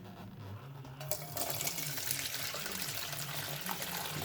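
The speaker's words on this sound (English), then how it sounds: "now I'm gonna pour it into this strainer" Homemade four-pepper hot sauce with brine is poured into a strainer, giving a steady, close, splashing liquid wash that swells after the first second and keeps running to the end.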